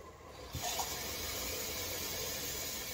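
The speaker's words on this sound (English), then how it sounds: "I'll just use 1 cup of water." One cup of water is poured into a pot of Spanish rice, a sudden steady rushing hiss that starts abruptly and keeps going, close and even, with no talk.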